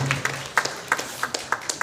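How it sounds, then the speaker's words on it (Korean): An audience at a church gathering in Changwon claps in a steady, rhythmic beat, around nine distinct claps close together, with a faint low voice at the start. "야, 박수"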